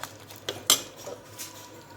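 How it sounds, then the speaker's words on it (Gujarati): Chopped coriander leaves being stirred into a pot of rasiya bhat, a spiced rice dish, giving a few sharp, separate clinks of a spoon against the vessel over quiet background. "એક બાઉલ ધાણા ભાજી એને હલાવી નાખીશું"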